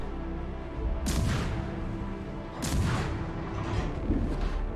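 Warship cannons fire in a Minecraft battle: two heavy booms about a second and a half apart, each trailing off into a dense, rumbling roar.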